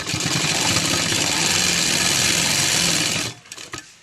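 A sewing machine stitching round the waistband of a sharara runs in one steady, loud, close whir for about three seconds, then stops with a few faint clicks.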